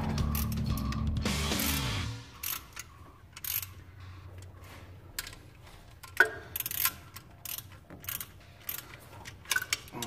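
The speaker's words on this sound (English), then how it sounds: "God, I hate this ratchet. It's not going anywhere." A ratchet wrench clicks in short bursts while working on a Cutlass water pump during an electric conversion, starting with a dense burst of rapid clicks, then scattered quieter ticks and clacks up close, with no talking.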